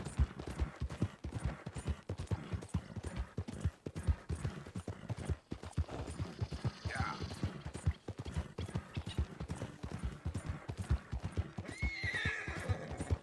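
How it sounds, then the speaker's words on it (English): A horse in Red Dead Redemption 2 whinnies and snorts while its hooves clip-clop in a steady, close rhythm throughout, with two short neighs standing out over the ongoing hoofbeats. "Horse is getting pissed."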